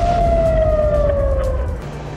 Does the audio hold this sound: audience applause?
no